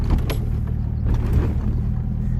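A C5 Corvette on Bilstein shocks at stock height rolls over an aggressive speed bump at idle, giving a steady low engine rumble close by with a soft muffled thump partway through.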